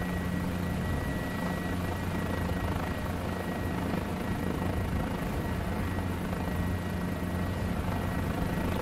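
A Guimbal G2 helicopter lifts off from a runway in Microsoft Flight Simulator 2020, its rotor and engine producing a steady, loud, unbroken drone throughout.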